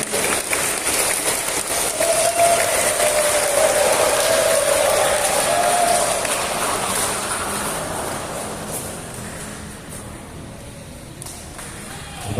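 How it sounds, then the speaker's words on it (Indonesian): A crowd at a volleyball team selection event applauds the coaches, a dense, sustained wash of clapping that starts loud and gradually thins and fades over about twelve seconds, with no talking. "kita beri aplaus untuk kita punya pelatih"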